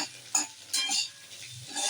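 A utensil scrapes and stirs fried egg and fried potato pieces in a pan, a few short soft scraping strokes with faint sizzling between them.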